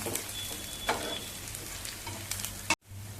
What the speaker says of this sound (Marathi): लसूण आणि मिरची चांगली परतवून घेऊया